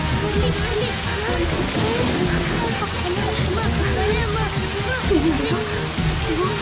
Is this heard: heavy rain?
yes